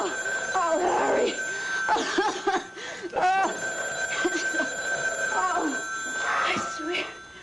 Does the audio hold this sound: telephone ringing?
yes